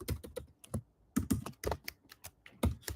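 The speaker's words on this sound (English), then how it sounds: "I just type it out." Computer keyboard being typed on in quick irregular bursts of clicky keystrokes with short pauses, close and quiet, no talk.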